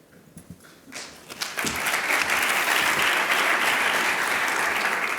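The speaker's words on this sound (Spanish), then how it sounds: "Yo os agradezco los aplausos" Applause from an audience at a Spanish talk on agricultural crop trials and biological pest control, starting with scattered claps and swelling into full, steady clapping that continues to the end.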